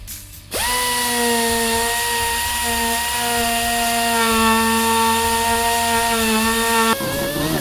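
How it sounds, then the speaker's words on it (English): A rotary tool with a burr bit grinds away a plastic rib during a nerf bar install on a Polaris RZR Pro R 4, a steady high whine held for about six seconds, close and loud, with no talking. "We're going to take a burr bit. You can take a razor blade or anything, any tool that you have readily available, and we're just going to go ahead and remove that."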